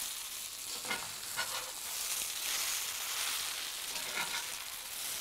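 Red flannel hash with corned beef frying in a medium-hot cast iron pan, a steady close sizzle with a few scraping pushes of a utensil against the pan bottom, no voices.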